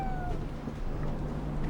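A ship's cat meows on board a ship, a steady short cry set against constant low rumbling background noise, with no talking over it.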